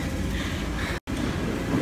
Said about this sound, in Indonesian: Oh, metronya udah datang.